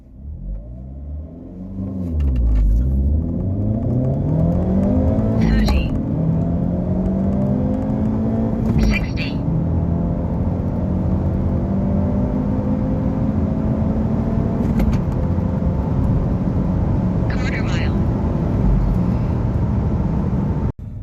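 A 2025 Hyundai Elantra N with a manual gearbox accelerates hard from a standstill, its engine revving loudly and climbing in pitch through several gears, with brief dips and crackles at each shift, close and continuous.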